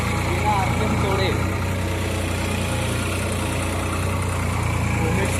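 Steady drone of a New Holland 3600-2 tractor pulling a reversible plough in a field, a constant low engine hum under load without rpm dips, fairly loud and unbroken.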